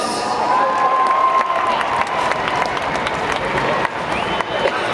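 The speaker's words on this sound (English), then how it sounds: "let's give a nice round of applause for Ryan Thomas" Crowd applause and cheering at an LA Galaxy MLS Champions ring ceremony, a steady wash of clapping with scattered shouts and whistles, loud and continuous throughout.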